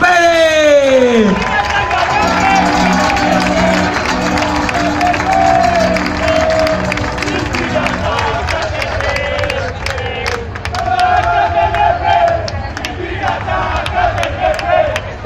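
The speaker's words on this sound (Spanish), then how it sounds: "Un fuerte aplauso para la representante fémina Cristina Pérez." Teammates and guests at a football club's league-winners celebration cheer and clap loudly for a team member, with shouts, whistles and crowd babble rising and falling in bursts.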